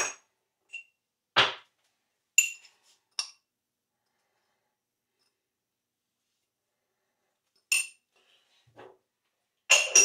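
A spoon stirs lamb scouse in a pot. A handful of short, sharp metallic clinks against the pot are spaced irregularly between long stretches of silence.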